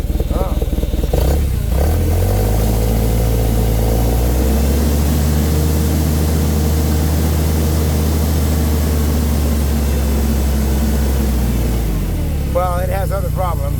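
The engine of a Toyota forklift idling steadily after a tune-up, no longer misfiring. It gives a loud, continuous low drone near the machine for over ten seconds, with people talking.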